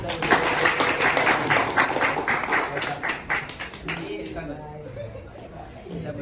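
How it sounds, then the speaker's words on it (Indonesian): A crowd claps for a few seconds, a dense burst of applause that thins out and fades, leaving murmuring voices. "tepuk tangan"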